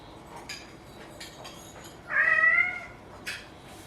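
A house cat indoors gives one clear, drawn-out meow at mid-level loudness, with a shorter faint chirp just after and light clicks and handling sounds around it.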